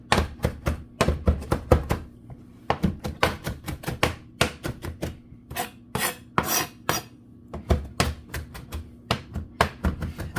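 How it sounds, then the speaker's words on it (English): A knife chops cilantro on a board in a rapid run of sharp, close taps, with bursts of quick strokes broken by short pauses and a few scraping sweeps. "as I'm chopping this parsley, this cilantro up"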